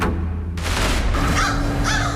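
Several crows caw over a crime scene, harsh calls rising above a dense, steady noise bed, moderately loud and somewhat distant.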